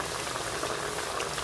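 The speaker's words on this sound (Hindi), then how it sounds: "बहुत ही ज़बरदस्त हमारे नगेट्स फ्राई हो रहे हैं दोनों साइड से" Aloo nuggets deep-frying in hot oil, cooked on both sides, give a dense, steady bubbling sizzle that stays even and unbroken throughout, close and with no voices.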